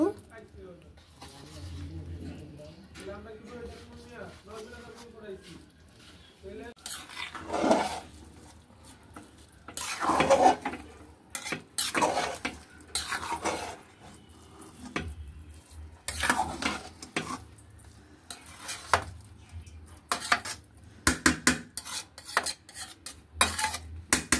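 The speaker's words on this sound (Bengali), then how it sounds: "এবার আলু বখরা আর কিশমিশ গুলোকে দিয়ে দিব" Aloo bukhara and raisins going into a pot of chicken biryani, with metal utensils scraping and clinking against the pan and a faint sizzle, under intermittent talk.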